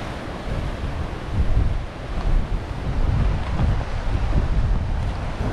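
Strong wind buffets the microphone in heavy, gusting rumbles, with rough sea water churning underneath throughout, in Indonesia.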